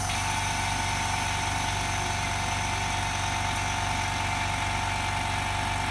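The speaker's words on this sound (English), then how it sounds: "the bubble removal machine, it will connect with air compressor also" A bubble removal machine for iPhone 6 LCD repair, hooked up to an air compressor, runs with a steady, even mechanical hum and low drone, constant and unchanging throughout, with no voices.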